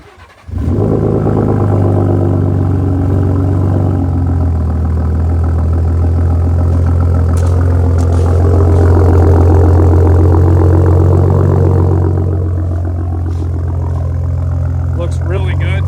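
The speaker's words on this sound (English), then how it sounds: "let's get a little startup with the bumper exit tailpipes and the SPD muffler" A Ford 3.5 EcoBoost truck fitted with bumper-exit tailpipes and an SPD muffler fires up abruptly, then settles into a loud, deep, steady idle with a slight swell in the middle.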